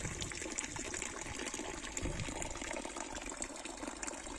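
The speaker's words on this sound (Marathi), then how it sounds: "ते पाणी ह्या साईजमधलं कंटिन्यू वाहत आहे" Water from a 500-foot borewell gushes continuously in a steady, full rush with no pauses, quite loud and close.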